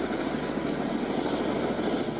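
National Guard rescue helicopter flying over record hurricane flooding in eastern North Carolina, a steady, loud rotor and engine drone that holds evenly throughout with no voices.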